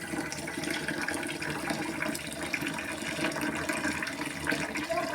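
Homegrown rice is washed in water with a steady, close swishing and sloshing that continues without pause, loud and alone.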